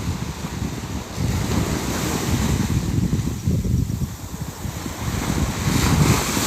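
Sea waves at Pantai Gurenggeh beach in Marang, Terengganu, with steady surf washing in under gusts of wind buffeting the microphone, continuous and fairly close throughout.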